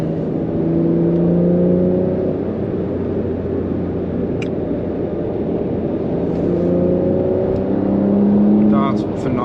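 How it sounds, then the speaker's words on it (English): A 2021 Porsche 992 Carrera with a turbocharged engine drones steadily from inside the cabin as it accelerates, with rising and falling tones and a loud, continuous roar. "It's a lovely sounding car."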